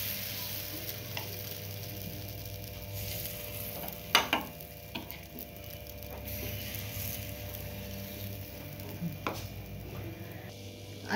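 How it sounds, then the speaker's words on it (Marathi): Jowar batter sizzles softly in an appe pan, a quiet steady frying hiss broken by a few sharp metallic clicks. "आपण हे मिश्रण आप्पे पात्रामध्ये टाकून घ्यायचंय।"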